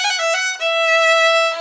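A violin plays a short melodic phrase with rapid trills, bright and close, no voices.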